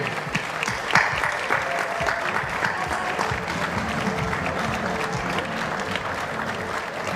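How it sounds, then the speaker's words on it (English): Steady, sustained applause from a large audience at the university sport climbing boulder finals, dense clapping at an even level for several seconds with faint crowd murmur. "a big, big round of applause for all of our volunteers"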